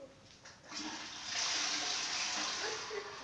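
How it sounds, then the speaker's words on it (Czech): A toilet flushes in a home bathroom: a soft click, then a loud rushing surge of water that keeps swirling steadily and close to the end. "Tak, tamponky spláchnu záchodu."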